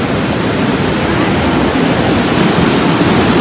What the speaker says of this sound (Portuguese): tá vindo uma onda aqui